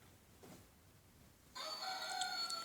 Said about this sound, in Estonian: See on ju kukk.